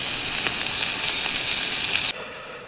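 Bacon frying for breakfast inside a van, a loud close sizzle with crackling pops that drops suddenly near the end, no talk.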